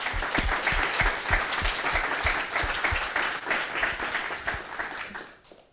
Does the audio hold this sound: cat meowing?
no